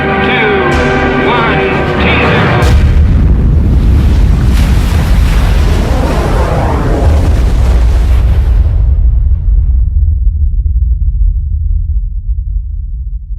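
A thermonuclear bomb test explosion of about ten megatons unleashes a massive deep rumbling roar that swells after a sharp onset, rolls on heavily and then fades into low lingering thunder.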